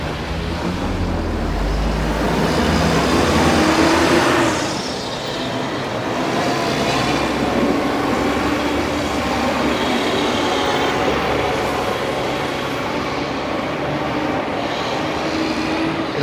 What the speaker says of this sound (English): It'll be nice once this noisy cement mixer gets out of the way.